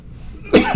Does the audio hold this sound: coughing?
yes